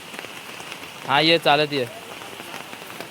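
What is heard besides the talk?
rain falling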